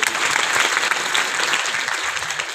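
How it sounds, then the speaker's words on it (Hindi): Audience applause fills a hall at a girls' inter college silver jubilee celebration, steady dense clapping from a large crowd, loud and continuous throughout without voices over it. "तो चलिए ताली से स्वागत कीजिए, प्रोत्साहित कीजिए।"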